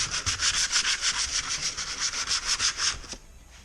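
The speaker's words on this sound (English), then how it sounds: "I'm already halfway done sanding." Steady rhythmic back-and-forth sanding strokes on a Camaro, a quick repeating rasp of abrasive against the car body, close and fairly loud with no talking, stopping abruptly near the end.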